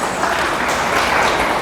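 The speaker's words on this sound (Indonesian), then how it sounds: "kasih tepuk tangan for Tuhan Yesus" A brief burst of steady, dense clapping from a church congregation, loud and close, with no voices over it.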